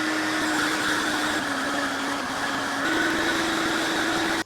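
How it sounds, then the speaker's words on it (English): Greenworks X-Range 60V brushless battery backpack leaf blower, rated 710 CFM, running steadily at full power with a constant loud whooshing roar and electric whine, close to the microphone, no talk. "when I get back to where I need to leaf blow, just pull the trigger"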